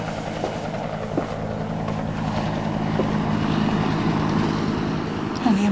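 A helicopter drones overhead with a low, pulsing rotor thump that holds at a steady, moderately loud level throughout.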